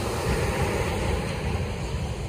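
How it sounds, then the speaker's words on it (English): Calm surf washing onto a beach near Durban, South Africa, at dawn, a steady low broadband rush of gentle waves with a light wind hiss, continuous and fairly close, no voices. "What a beautiful tabletop ocean."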